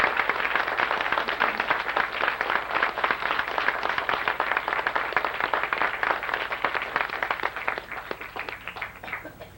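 Audience at a Sea Cadets graduation ceremony clapping steadily in a dense, sustained round of applause that eases slightly toward the end, with no talking over it.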